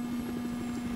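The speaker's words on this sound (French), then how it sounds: "Ah, y'a un hélico." Helicopter in Battlefield 4, a steady droning rotor and engine hum with a strong constant tone and faint rhythmic chop, loud and unbroken throughout.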